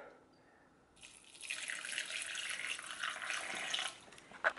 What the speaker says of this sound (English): I'm gonna try and quickly water my plants before I forget